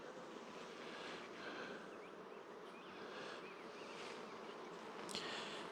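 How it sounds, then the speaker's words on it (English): Dense, steady buzzing of many honey bees on a hive frame close by, a continuous hum with no pauses and no voices. "There's bees all over it."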